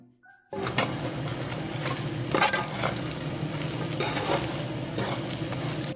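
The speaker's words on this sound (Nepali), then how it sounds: "सबै मसला मजाले लाग्ने गरी हामीले मासुलाई चलाउँछौं।" Chicken meat being stirred with ground masala in oil for a homemade chicken pickle, a steady scraping stir over a soft sizzle with a few louder clatters of the spoon against the pan.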